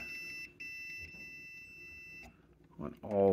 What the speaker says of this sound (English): So you want the leads to beep, and we're going to test the fuses.